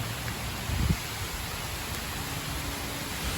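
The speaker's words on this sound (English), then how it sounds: "It's just straight up raining now." Rain falls steadily outdoors in Singapore, a dense even hiss close around the listener, with a brief soft thump near the start and no voices.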